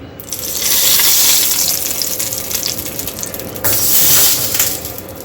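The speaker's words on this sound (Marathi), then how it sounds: "आता या चटणीमध्ये आपण ही फोडणी ओतून घ्यायची आहे" Hot mustard seed and curry leaf tempering poured into a tomato chutney, giving a short hissing sizzle that swells, eases, then flares again in a second burst, close and fairly loud.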